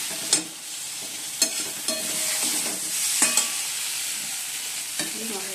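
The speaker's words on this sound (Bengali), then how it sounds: "মশলা কষানো হয়ে গেছে" Spices for a fish curry being stirred and fried in a pan, a steady close sizzle with repeated scraping strokes of a spoon roughly once a second.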